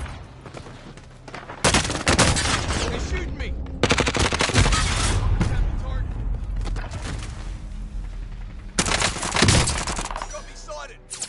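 Gunfire in the video game Warzone: repeated bursts of automatic fire and loud shots in several waves, with spoken voices mixed in.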